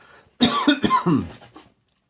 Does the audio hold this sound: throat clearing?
yes